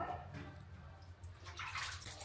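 Cold bath water splashes and sloshes in a tub, with irregular close watery bursts and drips over a low background rumble and no talking.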